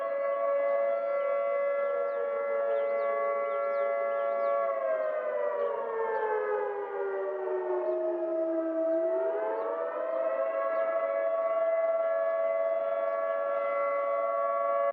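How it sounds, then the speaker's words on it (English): A civil defense siren sounds its attack tone, a loud continuous wail that holds steady, then sweeps down and climbs back up in a slow rising and falling cycle, with no voices over it. "And then there's the attack tone, which is it goes up and down, back and forth."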